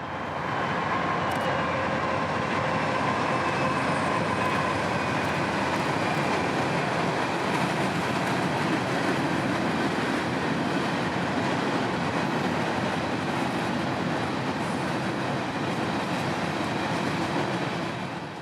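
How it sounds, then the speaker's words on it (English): A CSX northbound freight train of coal empties, running out of Orlando's OUC power plant in Central Florida, rolls past with a steady, broad rumble and rattle of wagons that holds constant throughout. "Our northbound train would be EO41, coal empties out of Orlando's OUC power plant"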